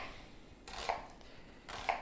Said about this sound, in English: I'm just going to do all my chopping first